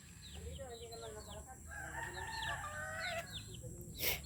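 Several roosters crow repeatedly across a farmyard where chickens are being fed, with overlapping cock-a-doodle-doo calls near and far and a louder burst toward the end.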